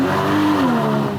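A sports car engine revs hard and steadily in Sport Plus mode, its pitch sliding upward then dipping, loud and close with no voices.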